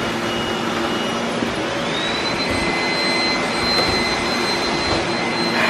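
Several robot vacuums run together, making a steady, loud broadband whir with a thin high whine that rises in pitch and then holds, continuous for the whole stretch with no talking.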